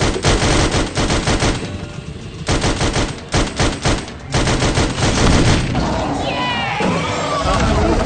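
Rapid bursts of automatic gunfire from the Sam & Max virtual reality game, clattering in repeated volleys over game music and effects, with voices talking in between.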